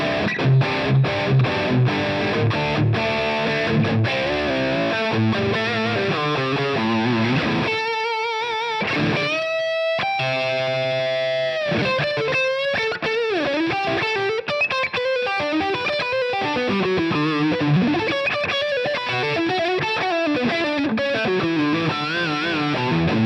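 Heavy, high-gain distorted electric guitar played through a Line 6 Helix amp model, loud and continuous, with chugging palm-muted riffs, sustained bent notes and fast melodic runs, no voices.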